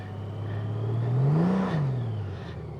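Honda Goldwing Gen6 motorcycle on a practice lot for emergency braking, its engine rising in a smooth rev, peaking and then winding back down, fairly close and loud with no voices.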